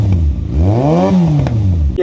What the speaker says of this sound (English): I really love the sound of this bike when it's purring over like that.